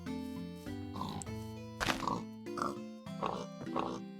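Pig grunts from the Minecraft game repeat several times in short, nasal oinks, close and clear with brief gaps between them.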